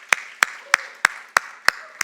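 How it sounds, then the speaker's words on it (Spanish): At a church worship service, single hand claps ring out at a regular, measured pace, about seven sharp claps in two seconds, close by and clear with no talking over them. "Damos un aplauso a esos jóvenes que están ahí"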